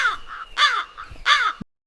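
A crow caws three times in quick succession, loud and close, harsh repeated calls standing alone before cutting to silence.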